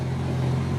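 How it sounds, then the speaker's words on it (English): Close, steady idle of a car engine running a Stage 2 BootMod3 tune, a low rumbling hum with a slight flutter in the RPM. "RPMs are fluttering just a little bit, but we don't have that check engine light"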